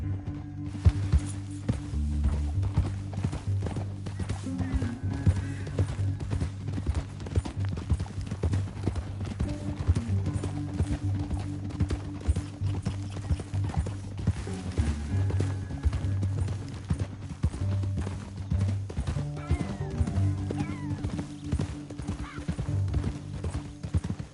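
Horses' hooves clip-clop steadily through the whole stretch in a Red Dead Redemption 2 gameplay scene, with occasional neighs and whinnies over a low, droning score.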